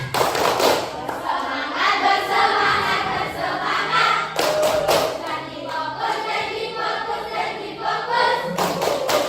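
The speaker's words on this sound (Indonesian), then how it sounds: "Ice breakingnya tepuk semangat" A group plays a rhythmic clapping game: many hands clap together in repeated patterned bursts, mixed with chanting voices, loud and steady through the whole stretch.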